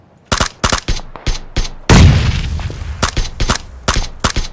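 Rapid bursts of SKS rifle fire in a video game battle, sharp cracks in quick irregular volleys with one heavier boom and trailing rumble midway, loud and close with no talking.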